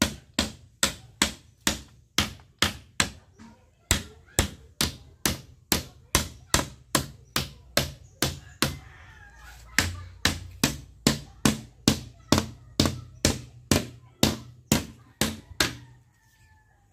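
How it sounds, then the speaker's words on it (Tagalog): Steady, evenly spaced hammer blows drive nails into a chair under repair, about thirty sharp, close knocks in a continuous rhythm with only brief pauses between runs. "Palulubugin po natin ang mga pako at nang hindi po nakakasabit ng mga short."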